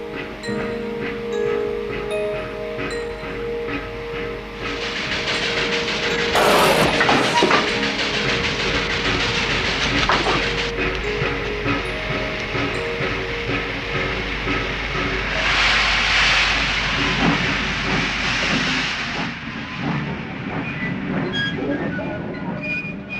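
A steam goods train hauling trucks rumbles steadily along the rails with rhythmic clatter, bursts of hissing steam and occasional metallic squeals, fairly loud and continuous throughout.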